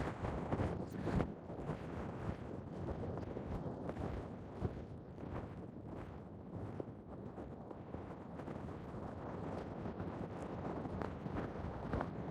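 Continuous wind gusting and buffeting a microphone, a low rough rumble that swells and eases without pause.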